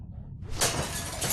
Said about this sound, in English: Use the bat to shatter that window so you can reach in, okay?